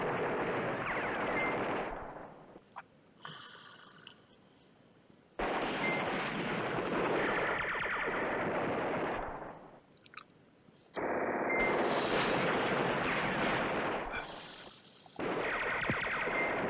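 Artillery fire in the wargame Command Ops 2: Highway to the Reich, heavy booming bursts that come in waves with quieter gaps between them, loud and alone with no voices.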